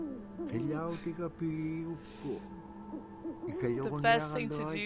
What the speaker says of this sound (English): There's an owl in the background.